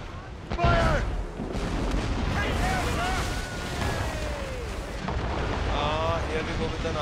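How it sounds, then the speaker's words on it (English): Ship mortars fire during a naval battle in Assassin's Creed Rogue, with deep booming blasts rolling out over churning sea and battle noise and voices calling out over the top. "we are gonna take them down with our mortars"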